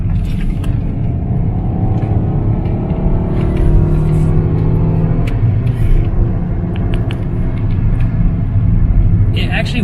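Ford SVT car cruising at about 55 mph, a constant low rumble of engine and road noise heard from inside, with people talking over it.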